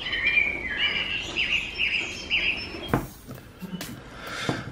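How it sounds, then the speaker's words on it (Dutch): Repeated high chirps and short tweets from birds over a faint outdoor hiss in the early morning in Amsterdam, followed by a few sharp knocks near the end. "Als je de vogels horen."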